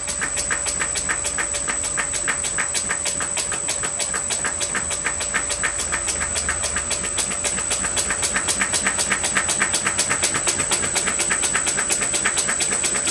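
An old Fay and Egan pattern lathe turns slowly on a variable-speed drive at 15 hertz, giving a steady rhythmic clicking and ticking over a constant high electrical whine. It is moderately loud and close, with no talking.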